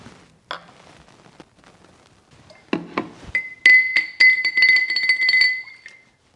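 Liquid mineral mixture shaken in a glass container, first scattered soft clinks and knocks, then a run of loud, ringing glass chinks and rattles close up, fading out at the end.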